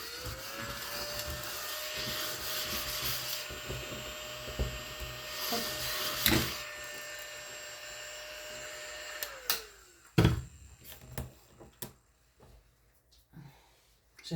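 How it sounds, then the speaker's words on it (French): A small vacuum cleaner whirs steadily with a sustained tonal hum while paper-crafting work goes on, then winds down around ten seconds, leaving clicks and handling noises. "J'adore ce petit aspirateur."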